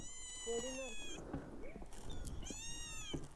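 A newly adopted village cat meows several times in drawn-out, rising and falling calls, close and fairly clear over a quiet rural background, with a faint voice between cries.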